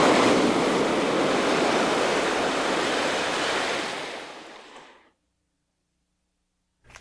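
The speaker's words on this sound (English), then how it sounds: "The tide is coming in." Ocean surf with the tide coming in on the Acadia coast, a loud, broad, steady wash of waves that fades over the last seconds and then cuts to near silence.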